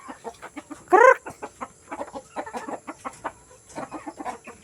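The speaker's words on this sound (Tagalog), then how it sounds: "Yan yung mga manok." Chickens cluck in quick, uneven bursts close by, with one louder squawk near the start standing out above the flock.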